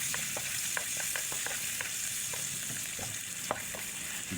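Garlic sautéing in a pan for a home-cooked mung bean and tofu dish, a steady broadband sizzle with frequent light clicks of stirring, close and continuous, with no voices.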